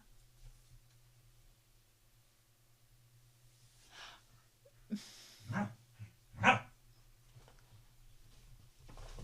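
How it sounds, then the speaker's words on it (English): A dog at someone's feet barks in a few short, sharp bursts, with a soft whimper or sigh among them, over a faint steady hum in a quiet room. "My dog is like barking at my feet."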